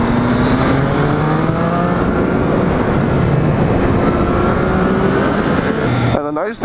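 A 2014 Triumph Street Triple ABS motorcycle engine roars loudly and steadily on a test ride, its pitch climbing in long rising sweeps under wind noise, then cutting off abruptly near the end; a voice talks over it.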